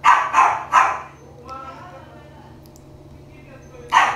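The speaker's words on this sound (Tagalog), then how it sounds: "Yung aso siguro maingay." A dog barks three times in quick succession, then falls quiet under a low background hum before one more bark near the end.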